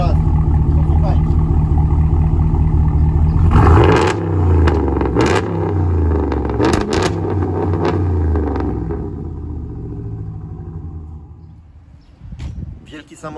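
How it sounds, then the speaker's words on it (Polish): A Dodge RAM pickup with a 5.7 V8 HEMI rumbles at idle, then its exhaust roars through several sharp revs before settling back and fading, with someone talking over parts of it. "dość ładnie brzmi wydech tego samochodu. Na wolnych obrotach bardzo dostojnie, a tak naprawdę ryczy po dodaniu gazu."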